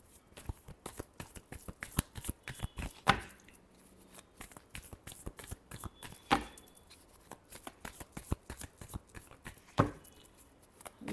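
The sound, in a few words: shuffling tarot cards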